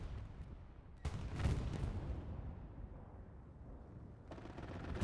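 Aircraft strafing fire rakes the ground in Hell Let Loose on the Stalingrad railway crossing map: a distant, muffled roar of rapid gunfire and impacts that swells, lingers, then fades, with a sharper burst near the end.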